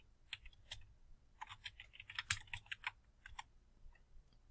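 Quick bursts of computer keyboard typing, close and fairly quiet, with clusters of clicking keystrokes separated by short pauses and no talking.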